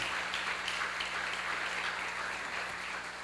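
A church congregation applauding, a dense, continuous wash of clapping heard from some distance, steady and even throughout.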